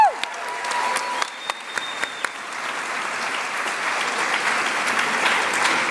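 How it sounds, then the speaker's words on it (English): Audience applause fills the hall at the 2018 Huxley graduation celebration, a steady, dense wash of clapping with a few sharp claps and a whistle near the start, continuing evenly throughout. "let's give another round of applause to the Homeschool Boys"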